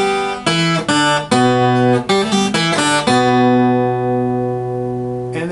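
A guitar plays a short single-note phrase with a hammer-on from an open string: about a dozen clear plucked notes in a steady rhythm, the last note ringing out alone.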